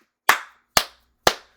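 Three sharp, evenly spaced hand claps ring out close and loud, each dying away quickly, with no talking.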